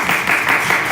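Brief burst of audience clapping at a church young-adults Sunday worship service, a dense, even patter of many hands lasting under a second.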